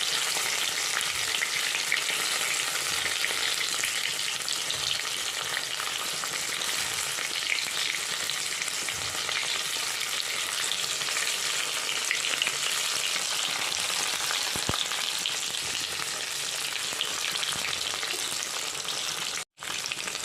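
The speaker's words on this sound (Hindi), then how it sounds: "यह है फ्राई, गोल्डन ब्राउन कर लेना है।" Stuffed bitter gourds (karela) fry in hot oil in a home kitchen, giving a continuous close sizzle with crackling and occasional stirring clinks, no talking.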